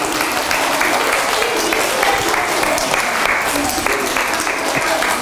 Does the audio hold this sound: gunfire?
no